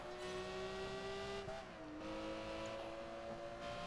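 A Lamborghini Murcielago in Project Gotham Racing 4 races flat out, its engine a steady high whine that dips briefly at a gear change before climbing again, loud and continuous.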